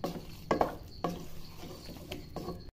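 Keema aloo masala is stirred in a pan, with several distinct scraping strokes of a spoon against the metal over a light sizzle, close and fairly quiet.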